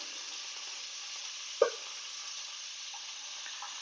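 Ginger frying in hot oil with onion, garlic and mustard seeds gives a steady, close hiss. A single sharp pop or clink sounds about halfway through, and there are no voices.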